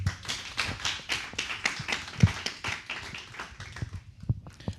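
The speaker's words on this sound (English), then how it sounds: "he deserves a round of applause" Applause from a crowd, a dense patter of many hands clapping at moderate volume, thinning out toward the end.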